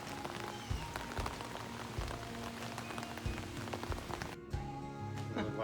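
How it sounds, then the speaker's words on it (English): Steady rain drumming on tarps stretched over a school bus roof, a dense close patter with occasional heavier drips and thuds. "It's raining. Yeah, it's definitely raining."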